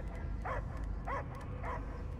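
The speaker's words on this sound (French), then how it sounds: "J'entends que des aboiements." A video game dog gives three evenly spaced barks or yips of moderate loudness over a low ambient rumble.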